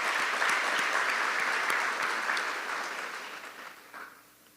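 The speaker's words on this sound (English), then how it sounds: "I want you all to give them a special round of applause." A ceremony crowd at an agro-incentive grant distribution applauds two cabinet members, a steady, even roar of many hands that gradually thins and fades out over a few seconds.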